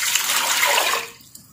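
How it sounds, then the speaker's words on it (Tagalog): Water pours steadily into a cooking pot for fish sinigang and gushes for about a second, then stops abruptly, leaving a faint drip and quiet. "Maglagay po tayo ng tubig."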